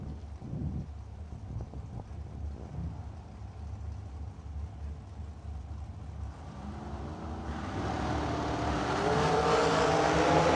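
A new-to-him dragster at a drag-strip meet roars off down the track, its engine noise building steadily and growing louder over several seconds against a windy rumbling background.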